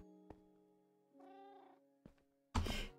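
Cats meowing in the video game Minecraft: a drawn-out mew followed by a short sharper cry and a louder final meow, close and clear against a quiet background with a few soft thunks.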